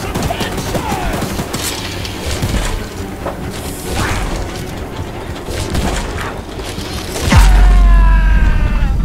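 A mounted gun fires in rapid bursts during a fight against the monster train in Choo Choo Charles, with crashing impacts and mechanical clanks, then a loud heavy blast and a ringing tone near the end.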